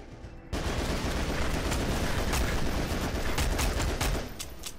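Sustained RCP-90 submachine gun fire from Goldeneye: Source, a loud continuous rattling burst lasting several seconds and then tapering off, with no talk over it.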